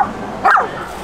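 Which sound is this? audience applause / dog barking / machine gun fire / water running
dog barking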